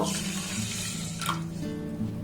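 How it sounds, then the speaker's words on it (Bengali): About one and a half bowls of water are poured into a pan while making a semolina sweet, a steady close splashing stream running for a couple of seconds before tapering off, with no voices. "এখানে আমি দেড় বাটি জল দিয়ে দেব"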